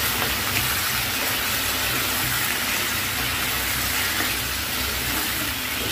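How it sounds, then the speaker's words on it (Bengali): Shrimp frying in a pan, a steady, loud, bright sizzle with an even hiss throughout and no talk. "তারপরে আমি চিংড়ি মাছগুলো একটু হালকা ভেজে নিব।"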